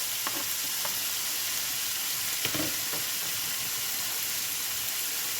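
Onions sizzle and fry steadily in a hot pan, a constant broadband hiss with a few faint clinks and stirring sounds, no talking, for potato, onion and egg cooking.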